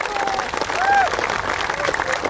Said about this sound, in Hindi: सभी साथियों से निवेदन की जोरदार तालियों से उनका स्वागत किया जाए।